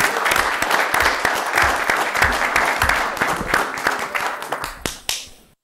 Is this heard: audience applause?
yes